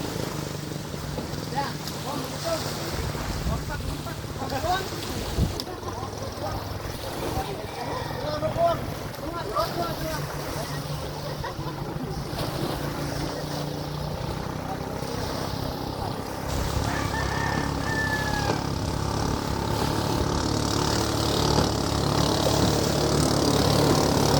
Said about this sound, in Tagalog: Yan, takbo sa bangka natin